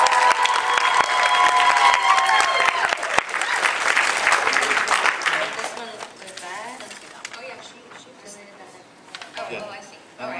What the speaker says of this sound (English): How about we get a round of applause,